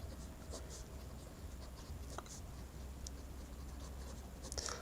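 A pen scratches lightly across paper while a maths solution is written out, a faint, close, continuous scratching with small taps and no voice over it.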